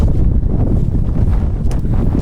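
Strong wind buffets the microphone in a continuous low rumble, gusting unevenly throughout, with no voices.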